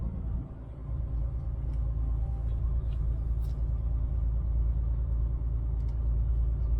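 A truck climbs a hilly village road in Germany with a low, steady engine rumble and drivetrain drone heard from inside the cab, with faint clicks and rattles on top.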